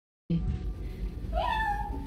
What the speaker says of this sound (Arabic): هي قطه